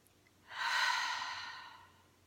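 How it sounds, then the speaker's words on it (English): During a meditation session for parents, one slow, deep breath is drawn and released close to the listener. It rises and fades over under two seconds against near silence. "So let's just take one more deep breath."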